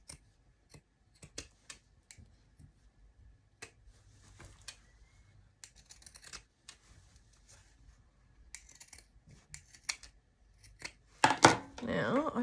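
Zigzag pinking scissors snip in a string of short crisp cuts, close and fairly quiet at first, then a denser, louder run of chopping snips at the end while trimming around an edge.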